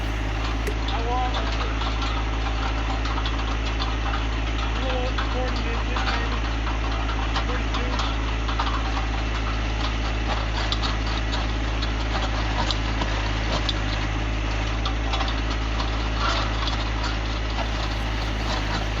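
A John Deere 1025R compact tractor engine runs at low revs while driving a post hole digger into rocky shale ground, a loud, steady knocking diesel drone close by with faint scraping underneath.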